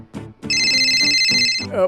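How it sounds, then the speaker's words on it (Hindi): A telephone rings with a loud, continuous electronic bell tone that cuts in partway through, with a voice speaking just before and alongside it. "लो, तुम्हारे लाडले बेटे राज का फोन भी आ गया"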